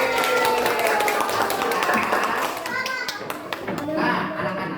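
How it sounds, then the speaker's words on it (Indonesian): Primary school children's clapping and tapping over a busy classroom murmur, with scattered sharp claps that thin out toward the end. "Kasih tepuk tangan dulu dong buat Rafa."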